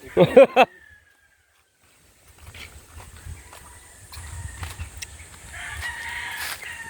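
A rooster crows loudly at the start at a farm chicken coop, followed by a pause and then low, scattered clucking and rustling of many chickens in the background.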